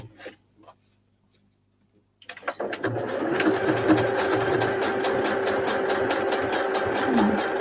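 Sewing machine zigzag-stitching fabric scraps onto a scrap roll, starting after a quiet pause and then running as a steady, continuous mechanical whir with rapid needle ticking, close and alone.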